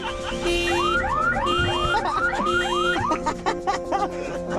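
A car alarm in Chile blares on and on in a repeating cycle of rising whoops and steady tones, loud and close, with a few faint voices and laughter underneath.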